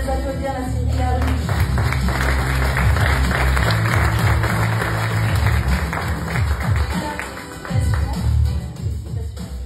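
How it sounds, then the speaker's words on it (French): Audience applauding the Scierie Larue sawmill winners on stage at a local business awards evening, dense sustained clapping with some cheering and murmured voices, loud and close, dipping briefly near the end before swelling again. "on peut les applaudir, la Scierie Larue."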